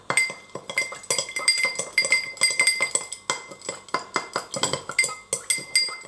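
A sugar cube is crushed in an absinthe glass with a spoon, giving a rapid, rhythmic run of bright clinks and scraping taps, close and steady, with no talking.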